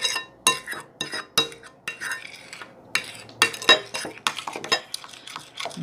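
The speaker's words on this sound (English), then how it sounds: "make sure you stir it up real good because you want because you know the mayonnaise is like lumpy kind of" A spoon clinks and scrapes against a bowl while stirring a lumpy mayonnaise mixture for keto egg roll in a bowl, with a rapid irregular rhythm of close, sharp metallic taps and no talking.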